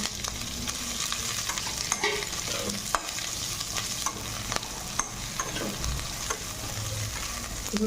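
Capsicum and onion stir-fried in a hot pan for chili chicken, a continuous loud sizzle broken by repeated scrapes and clinks of a spatula against the metal, with no talking.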